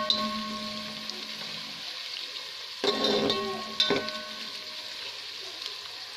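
Onions frying in oil until reddish for Moradabadi biryani give a close, steady, soft sizzle, broken by two brief louder bursts of crackling, with no talking.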